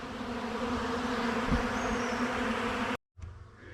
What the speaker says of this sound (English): the bees are flying out